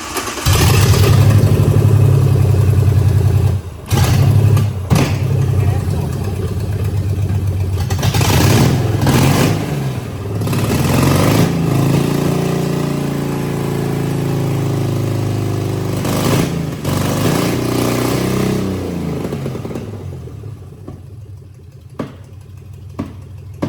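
A repaired engine in a Danger Ranger fires up and revs in loud, close bursts, dropping back between pulls and sputtering toward the end, with occasional voices in the pauses.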